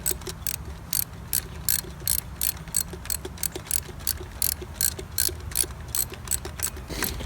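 Rapid ratchet clicking in bursts as 12mm bolts are loosened on a 1991 Honda Civic during a D16Y7 engine swap, close and crisp, with short pauses between runs of clicks.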